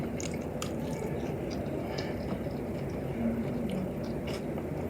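Close, steady chewing and biting of Chipotle food along with red Takis, soft crunchy and wet mouth sounds running continuously with no talking.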